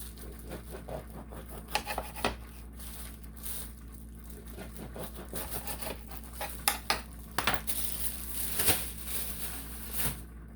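A knife cuts a few pieces from a loaf of bread in a home kitchen, with scattered scraping, sawing and tapping strokes close by; no talk.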